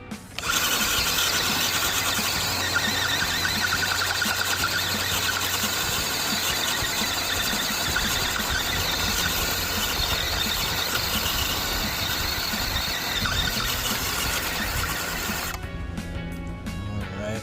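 Two upgraded-motor RC crawler trucks, a Toyota Hilux and an MN82 Toyota Land Cruiser, run side by side with a steady high-pitched electric motor whine and gear squeal, loud and continuous for most of the stretch before cutting off near the end.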